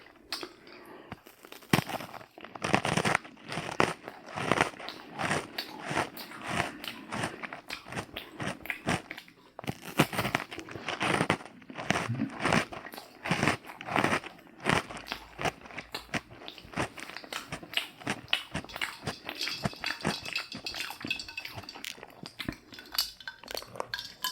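Pretzel rods and Bugles are bitten and chewed right up close, with sharp repeated crunches and crackly chewing in uneven bursts, plus a few light clinks in a quiet room.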